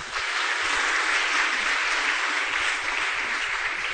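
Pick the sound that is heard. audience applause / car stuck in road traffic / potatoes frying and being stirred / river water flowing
audience applause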